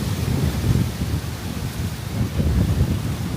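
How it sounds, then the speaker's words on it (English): Strong wind gusts roar without a break across the microphone at an outdoor hilltop overlook near an ancient earthwork in Ohio, loud and close, rising and easing slightly, with no voices. "that wind is starting to kick up"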